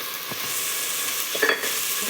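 Chopped onion, tomato and green chili being stirred in a hot frying pan for poha, a steady close sizzle with a few scraping strokes of the spoon and no voices.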